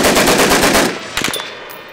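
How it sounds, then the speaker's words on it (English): Machine gun firing a rapid, loud burst at an Arizona desert shoot near Wikieup and Big Sandy, the rounds pounding rhythmically for about a second before trailing off into echoing reports and a few scattered later shots. "One machine gun."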